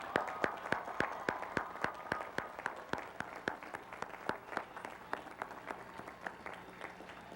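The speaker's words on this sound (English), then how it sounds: "ask them to stand for a well-deserved round of applause" Graduates and guests at a college of business commencement ceremony give a standing round of applause, a distant crowd of hands clapping in a steady, even patter that carries on for several seconds without talk.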